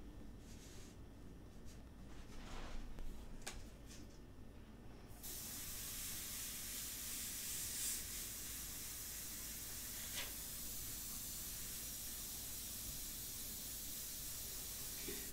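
Ink is sprayed onto a pastel portrait in quiet bursts, building into a steady, soft airbrush hiss that runs without a break through most of the passage.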